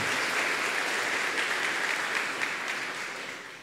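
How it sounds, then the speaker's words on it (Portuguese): Sustained applause from a church congregation at a Sunday Mass, a dense, steady wash of clapping hands filling the whole stretch and tapering slightly near the end, with no voices over it. "Salve de palmas para o salmo,"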